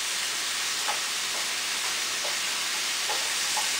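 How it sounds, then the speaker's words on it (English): Meat and vegetables saute in a pan with a steady, fairly quiet sizzling hiss and a few faint clinks of stirring. "I'm going to saute these slightly"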